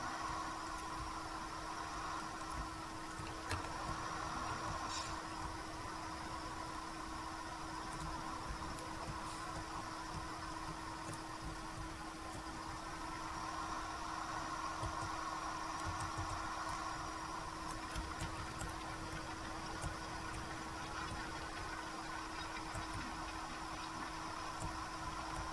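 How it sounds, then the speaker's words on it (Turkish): A small tractor in Farming Simulator 2015 drives slowly with a steady, unbroken engine drone at moderate level, constant throughout with no talking. "Arkadaşlar traktör küçük olduğu için çok yavaş gidiyor."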